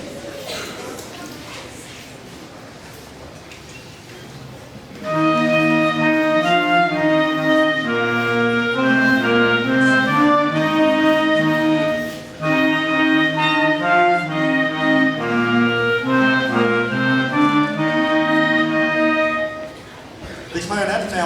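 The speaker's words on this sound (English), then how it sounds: "Here's how the clarinet sounds" A 5th grade clarinet section plays together at an elementary school band concert, a sustained ensemble tune starting after about five seconds of room murmur, with a brief pause midway before continuing to the end.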